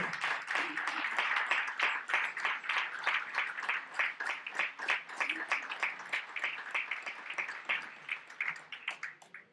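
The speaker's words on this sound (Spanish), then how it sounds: "os pido un gran aplauso" Audience at a folk song festival claps in a fairly sparse, rhythmic patter, individual claps distinct, easing off toward the end.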